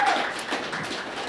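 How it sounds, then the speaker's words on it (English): An audience at the Medina County Weights & Measures seal awards gives a dense round of applause, steady clapping of many hands throughout. "So let's give all these folks a nice round of applause."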